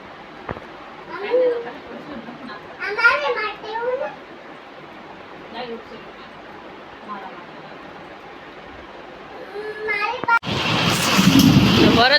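Rain falls through a thunderstorm around a home, a steady hiss beneath children's and adults' voices, then swelling into a loud, dense roar of downpour or thunder over the last couple of seconds.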